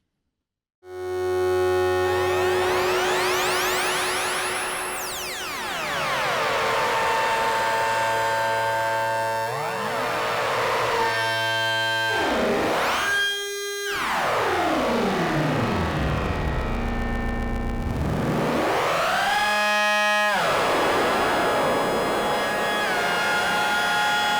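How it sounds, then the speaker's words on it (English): A Make Noise Strega synthesizer playing rich harmonic drones through its delay and filter, with pitches sweeping and gliding up and down, sustained and loud throughout, and brief dropouts between phrases. "This has a very beautiful sounding and unusual delay, a filter, an absorb control, and a blend control to blend between the dry and the wet sound"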